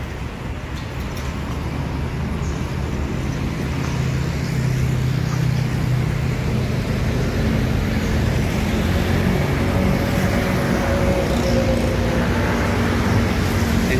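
A Sinar Jaya Megalanggeng bus rolls past in busy road traffic, a heavy engine drone and tyre roar that builds and stays loud throughout, with other vehicles rumbling around it.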